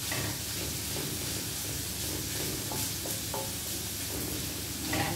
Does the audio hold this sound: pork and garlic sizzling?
yes